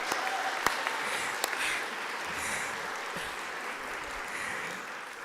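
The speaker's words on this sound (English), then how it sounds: "Can we please have a round of applause for him?" An audience applauds at a St. Patrick's Day celebration for the Director of Arts, steady, fairly soft clapping from a moderately sized crowd that holds evenly throughout.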